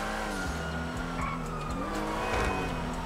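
Porsche in GTA 5 skidding, with loud engine revs shifting in pitch and squealing tires sliding across the road, continuous and close.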